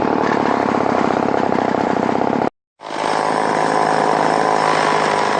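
A Polan Micro XXV chainsaw engine running hard and buzzy at close range, cutting out abruptly for a brief moment of silence, then restarting and running on at a steady high rev with its cover refitted and a troublesome clutch.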